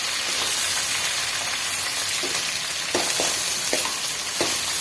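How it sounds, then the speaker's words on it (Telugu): Chopped onion and green chilies fry in hot oil, giving a constant close sizzle with a few soft scrapes and taps from stirring in the pan. "ఆనియన్ అండ్ పచ్చిమిర్చి ఆయిల్లో మంచిగా బాయిల్ కానివ్వాలి."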